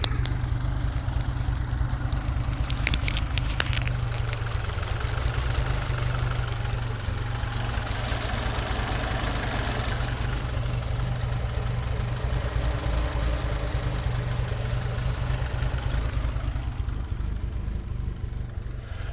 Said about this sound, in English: So it's got a nice healthy idle.